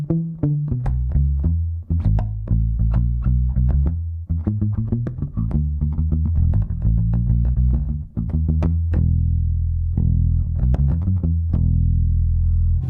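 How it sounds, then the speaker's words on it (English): Bass guitar played through a BG250 combo bass amp with the treble rolled off for a dark, Motown-style tone, a steady run of loud, close plucked notes with no talk. "a sound like this, with the treble rolled off, is best, I'd say, for maybe a Motown sound"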